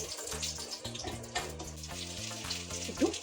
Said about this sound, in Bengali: এবার গরম তেলে শুকনো লঙ্কা, গোটা গরম মশলা আর তেজপাতা ফোড়ন দিয়ে দিলাম, সাথে জিরে ফোড়ন দিলাম।